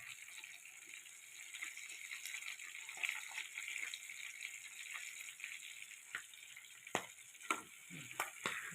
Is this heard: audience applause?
no